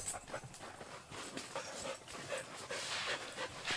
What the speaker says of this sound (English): Who's this? My doggy.